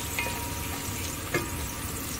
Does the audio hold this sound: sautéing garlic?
yes